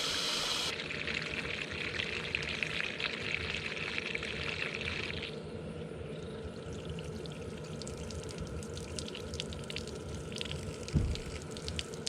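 Water pours steadily into the fresh water tank of a Jayco Jayflight camper, a continuous rushing stream that softens partway through and keeps running with a brief knock near the end.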